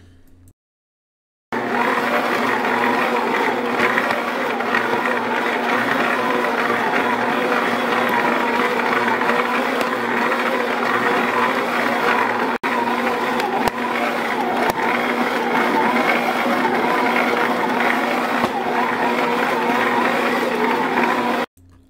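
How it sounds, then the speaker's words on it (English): A stand mixer's motor straining as the dough hook kneads bread dough, a loud, steady whirring drone running continuously for about twenty seconds after starting up, with no talk over it. "You're actually going to hear the sound of the machine, and just take a note of how hard the motor is starting to work."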